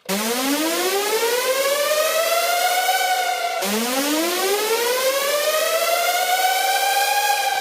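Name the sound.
synth riser transition from Arsenal controlled by Triggerfinger Pro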